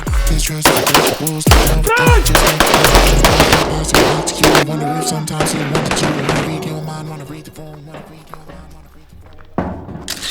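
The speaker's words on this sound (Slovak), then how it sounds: "Nahop, dve rany." Gunshots ring out during a shooting training drill: a rapid run of loud, close shots and bursts, then a few scattered reports, with voices heard at times between them.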